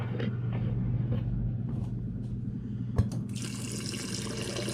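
Water runs steadily from a refrigerator dispenser just after a Culligan filter replacement, a continuous close stream with a faint hum, brightening into a louder, splashier flow near the end; no talking.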